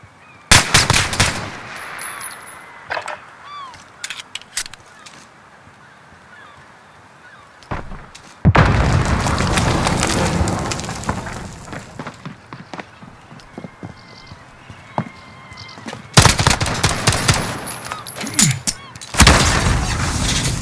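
Gunfire crackles through a firefight in the Call of Duty: Modern Warfare video game. Sharp bursts and single shots come first, then a long stretch of dense, continuous firing, then more rapid volleys near the end.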